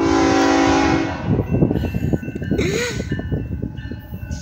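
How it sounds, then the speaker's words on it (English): A freight train led by BNSF ES44AC locomotives passes close by, with a loud horn blast opening into rumbling engines and rolling, clattering wheels. A short voiced exclamation cuts in partway through. "Ooh, a bunch of locomotives. Looks like either grain or manifest."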